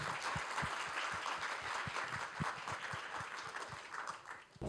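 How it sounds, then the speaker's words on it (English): Audience at a scientific conference applauding speakers, a steady patter of many hands at moderate distance, fairly soft, with no speech over it. "Can we give them one more round of applause?"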